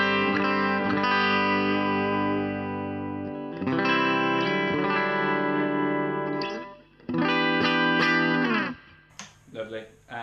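Clean electric guitar tone through a Valeton Coral Mod pedal and amp, picked up by a cheap condenser mic a foot from the speaker cone: sustained strummed chords ringing out in three loud phrases, the last trailing into short plucked notes.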